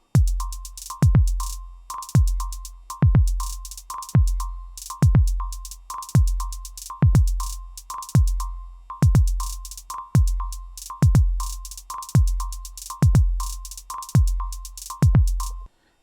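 Percussion and rhythm parts of a generative ambient track played on a Keystep Pro sequencer with an SH-4d synth: a steady loop of punchy, deep kick-like hits about every second, with a sustained mid tone and bright ticks layered between, no voices.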